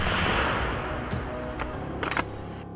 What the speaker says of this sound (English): The sound of gunfire echoed through the forest, triggering more movement.